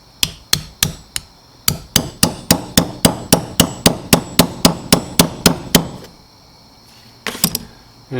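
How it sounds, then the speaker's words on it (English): Rapid series of about twenty sharp taps as a PVC pipe drives a seal into a Porsche 944 engine during a balance shaft and seal job, close and loud, evenly spaced, then a pause and a brief final cluster. "I've got a couple PVC pipes I keep around, nice flat edge that I like to use for these as a makeshift seal driver"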